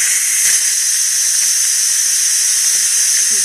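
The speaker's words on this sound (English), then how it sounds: "now I'm going to turn the pressure valve to vent to get the steam" Steam hisses steadily and loudly from the pressure-release valve of a Ninja Foodi pressure cooker after cooking potatoes, a continuous bright rushing jet with no talking over it.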